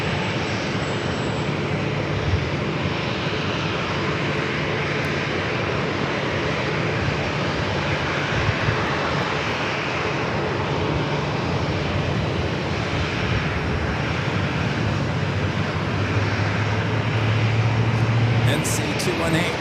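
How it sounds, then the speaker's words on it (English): A Southwest Airlines Boeing 737 MAX 8 arriving from Baltimore at San Diego airport gives a steady, loud jet roar that holds for the whole stretch, swelling slightly near the end, with a voice talking over it. "Southwest flight coming in from Baltimore, Maryland, a 737 MAX 8"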